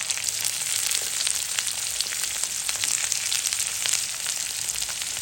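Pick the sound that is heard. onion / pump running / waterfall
onion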